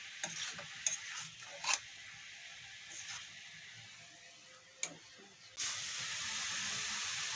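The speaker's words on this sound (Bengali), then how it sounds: "এবার দিয়ে দিয়েছে কুচনো বাঁধাকপিগুলোকে, দিয়ে ভালো করে নাড়িয়ে চাড়িয়ে নিচ্ছে" Chopped cabbage tossed with fried onions in a pan gives scattered stirring clatters and short sizzles, then a sudden, steady loud hiss of frying near the end.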